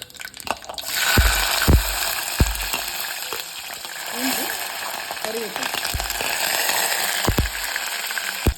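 Garlic and curry leaves crackle and sputter in hot oil after mustard seeds, with a loud close frying hiss, several sharp pops and scraping stirs, and no talking.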